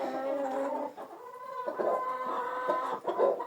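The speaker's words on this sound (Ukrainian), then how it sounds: "Вот ця курочка легбара вон." A Legbar hen clucks softly and repeatedly inside a chicken coop, close by and fairly quiet, with no one speaking.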